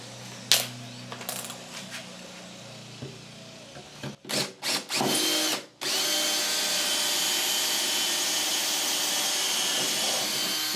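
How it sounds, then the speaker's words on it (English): A power drill bores into wood while building a wooden tool box. First come scattered knocks and short bursts, then a loud, steady whine that runs close by for several seconds. "when you drill this hole"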